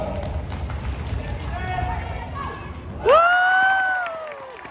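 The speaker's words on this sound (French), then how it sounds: "c'est le temps de faire du bruit avec ses pieds. On l'encourage." Crowd at a sports qualifying event in Montreal stomps and cheers in a rumbling roar under an announcer's voice, then a loud rising cheer or whistle-like shout swells near the end.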